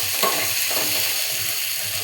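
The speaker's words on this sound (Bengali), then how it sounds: "মশলাটা একটু ভাজা ভাজা হবে" Spices with garlic fry in a pan, stirred with scrapes and shuffles over a steady close sizzle, no voices.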